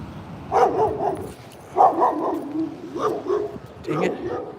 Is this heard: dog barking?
yes